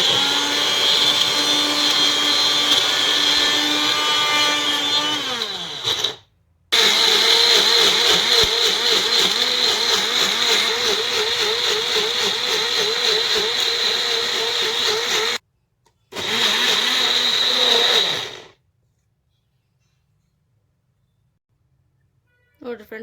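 A mixer grinder whirs loudly while grinding biryani masala paste, running in three steady bursts separated by brief stops, then falls silent near the end.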